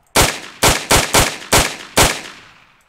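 Six sharp, loud gunshots from a handgun in a Roblox FiveM-style game, fired in an uneven quick sequence with a short reverberant tail after the last, no talking.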